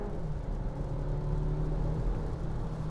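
A Skoda Karoq compact SUV with 190 horsepower, in normal drive mode, accelerating at full throttle from 50 km/h. A steady, loud engine drone and road rumble hold throughout with no break.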